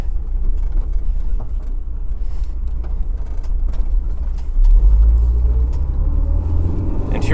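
A Honda AP1 S2000 with a cable throttle accelerates on a race track, its engine a loud, steady rumble heard from inside that swells as the revs build, with no talking.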